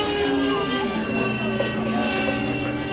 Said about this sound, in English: I'm showing you the performance of the electric ducted fan.